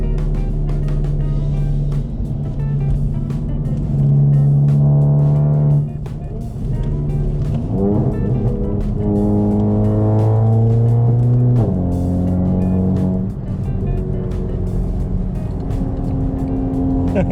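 Hybrid-turbo Volkswagen GTI driven hard on a winding backroad, its engine note loud and close throughout, climbing and dropping through gear changes with sharp revving surges and brief lifts off the throttle.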